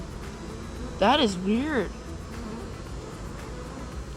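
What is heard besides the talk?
honey bees buzzing around an open hive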